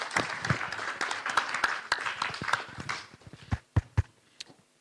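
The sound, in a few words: audience applause for the presenters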